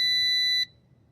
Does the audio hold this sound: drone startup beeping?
yes